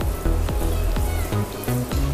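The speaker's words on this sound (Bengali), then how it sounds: "লাল করে আমি ভেজে নিচ্ছি।" Raw banana kofta sizzling and crackling steadily in hot oil, close and continuous, with a few light spatters and utensil taps over the fry.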